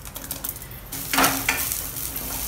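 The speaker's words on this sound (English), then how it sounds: "you take about half a tablespoon of oil in a pan and add 1 tablespoon of channa dal to it and 2 dry red chillies" Channa dal and dry red chillies frying in about half a tablespoon of oil in a pan, a soft sizzle with a louder hiss burst midway and light stirring clinks, close and without talk.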